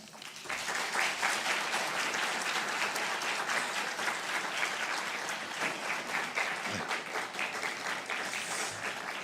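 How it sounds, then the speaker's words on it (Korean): A church congregation at a Holy Week special evening service at Suwon Gwangil Church gives loud, sustained applause as a pastor is welcomed to the pulpit, an even wash of clapping with no speech. "우리 목사님 나오실 때 큰 박수로 환영하도록 하겠습니다"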